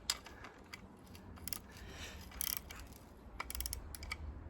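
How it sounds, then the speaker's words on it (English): A ratchet wrench clicks in quick, uneven bursts while tightening bolts on a Yamaha 9.9 hp outboard motor during an impeller replacement, the small metallic ticks close and fairly quiet over light background noise. "Just these little noises from the ratchet"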